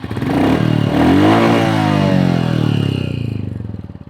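A Royal Enfield motorcycle engine revs up and holds a loud, throaty exhaust note, then eases off, close by and continuous for several seconds.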